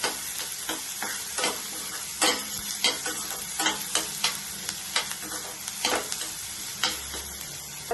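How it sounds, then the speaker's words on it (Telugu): Sliced onions cook in a pan for aloo bonda, giving a steady soft sizzle broken by repeated scraping stirs at an irregular, close rhythm, with no voices. "ఈ ఉల్లిగడ్డలు కొంచెం బాయిల్ అయితే చాలు, మొత్తం నేను ఫ్రై అనవసరం లేదు."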